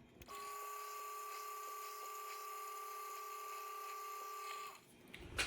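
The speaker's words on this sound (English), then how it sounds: "what I'm going to do is put it in the vise here and spot drill it" Spot drilling a steel part held in a vise on a machine tool produces a steady high-pitched whine with faint rhythmic ticking for several seconds, then winds down.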